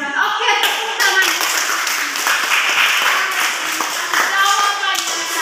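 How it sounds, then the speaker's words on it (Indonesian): A class of students claps steadily together for several seconds, a lively round of applause with a few voices mixed in. "Oke, tepuk tangan."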